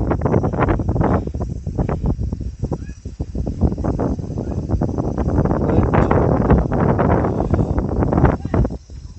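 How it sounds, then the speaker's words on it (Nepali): Cold wind gusts across a hillside in Sankhuwasabha, Nepal, buffeting the microphone in loud, rough bursts that continue without a break for several seconds. "दामी चिसो हावा आइरहेछ"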